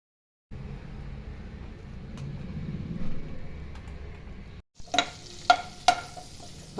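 Pieces of chicken fry in hot oil for a Chinese-style chicken gravy, giving a steady close sizzle, then a pause and a few sharp clinks and scrapes as they are stirred in the pan.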